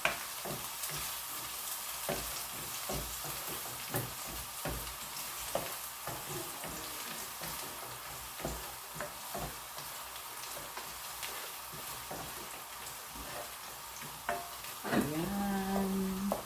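Garlic sizzles steadily in a hot pan for chicken tinola, a continuous crackling fry with occasional stirring clicks, close and moderately loud with no talking.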